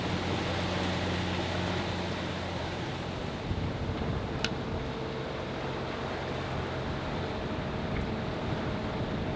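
Sailboat motoring under engine toward Horta after an Atlantic crossing: a steady low engine drone and hum runs beneath constant wind and water noise, with a brief high click midway and no talking.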